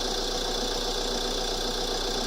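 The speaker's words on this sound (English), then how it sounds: "Alright, the engine's been running now for 5 minutes" A van's engine idles steadily after several minutes of running, a constant close mechanical hum with a faint ticking knock throughout, no speech.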